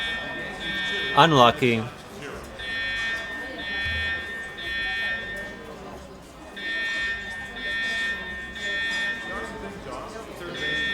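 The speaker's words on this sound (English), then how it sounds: "they said they were gonna be testing their fire alarm systems" A store's fire alarm system sounds during a test, giving a steady high electronic buzz that repeats in long bursts, with brief gaps between them. A person speaks over it at the start and a television broadcast plays underneath.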